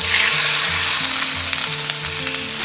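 Kohlrabi stir-fried in a wok, a steady broadband sizzle holding throughout with soft scraping stir strokes, loud and close, with no talk.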